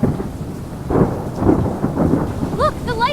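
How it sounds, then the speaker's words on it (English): Heavy rain pours steadily while deep rumbles of thunder roll underneath during a severe storm, loud and close, with a few faint rising whistle-like tones near the end. "Thunderstorms are intensifying, and residents should remain indoors and seek high ground immediately."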